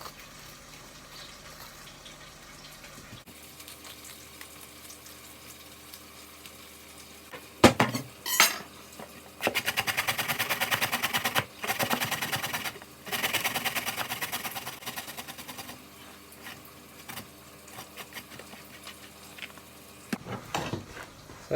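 Fresh ginger being grated for a roasted cauliflower and aubergine curry, rhythmic bursts of rasping scraping strokes in the middle, close and moderately loud, with quieter handling clatter before and a final short scrape.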